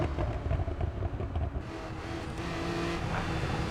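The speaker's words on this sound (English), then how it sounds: "this is a pop and burble" A classic supercar in the racing game Assetto Corsa EVO: a steady, loud engine drone with crackling exhaust pops and burbles scattered over it, the tone holding fairly even throughout with no talk.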